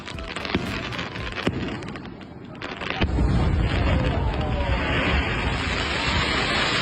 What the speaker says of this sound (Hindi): तो अभी हमने पटाखे में आग लगा दिया है।